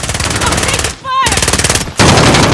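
Call of Duty Modern Warfare combat with loud, near continuous rapid automatic gunfire, a brief break around a short electronic chirp, then the shooting resumes even louder.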